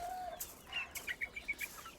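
Several poultry chickens cluck in quick short bursts at drinking water, moderately near, with a soft quiet background.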